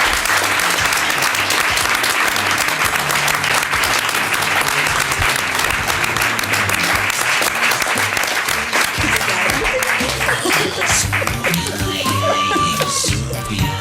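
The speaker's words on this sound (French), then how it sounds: "On peut l'applaudir." Enthusiastic audience applause after a talk about a horseback tour of Switzerland, loud sustained clapping from a sizeable crowd filling the whole stretch, with some voices and cheers rising near the end.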